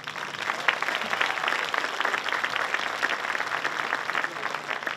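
A crowd at a high school graduation claps for distinguished guests, sustained dense applause that holds steady throughout.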